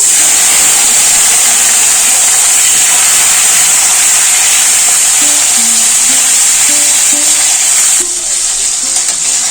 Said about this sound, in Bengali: এর মধ্যে আমি একটা টমেটো দেবো